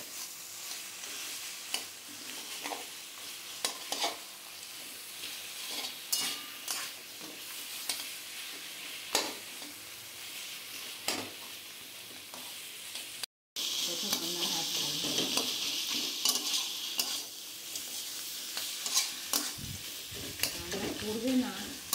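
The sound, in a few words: fish head being stir-fried with spice paste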